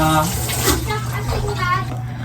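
Sliced banana is rinsed under running tap water, a brief splashing rush heard close by with a voice speaking over it.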